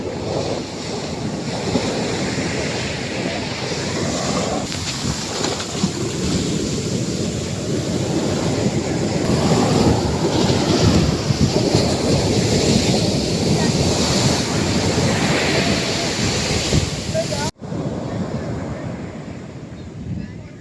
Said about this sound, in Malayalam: പക്ഷെ കടലേ ഇപ്പോൾ നല്ല പ്രക്ഷോഭത്തിലാണ്.